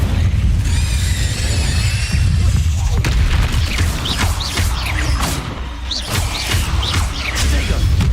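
Incendio fire spell cast during a Hogwarts Legacy fight, a loud booming burst followed by several crackling, popping flares, close and continuous, mixed with game music and effects.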